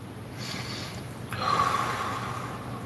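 A person takes deep breaths, a slow airy inhale followed by a stronger, longer exhale, close and fairly quiet with no talking.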